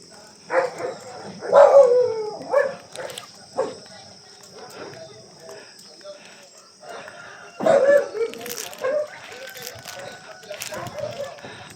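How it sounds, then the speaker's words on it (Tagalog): Several dogs bark in scattered bursts, some near and loud, others farther off, mixed with people talking nearby. "May aso pa dito."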